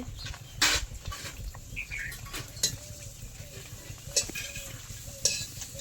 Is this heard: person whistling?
no